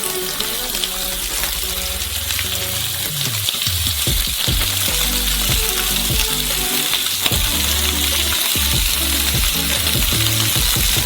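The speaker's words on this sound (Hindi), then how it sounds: "पहली चीज तलेंगे बीफ रिब्स।" Beef ribs fry over maximum heat with a loud, dense, continuous sizzle and crackle that stays steady throughout, with occasional clunks from the pan.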